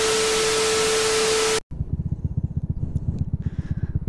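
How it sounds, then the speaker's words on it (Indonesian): A motorcycle fitted with a modified bass-heavy bobokan exhaust rides on a main road, a deep rapid throbbing engine pulse following a burst of loud wind rush, with no talking. "Ya sekarang kita tes di jalanan ya, di jalan raya kita tes kena suara knalpotnya."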